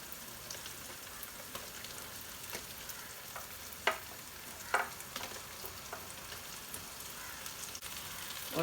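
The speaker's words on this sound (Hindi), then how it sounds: "लहसुन को भूनेंगे प्याज के साथ। अब हम इसमें डालेंगे टमाटर।" Garlic, onion and tomatoes frying in a pan for chicken biryani, a soft continuous sizzle with occasional louder pops and stirring clatters, no talk.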